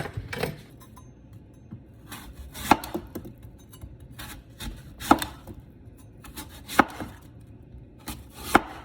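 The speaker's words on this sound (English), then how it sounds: "I'm gonna peel this and I'm gonna cut 4 cups worth of these." Baking apples being cut on a board for Apple Brown Betty: sharp knife chops land every couple of seconds between softer scraping and handling sounds, close and clear.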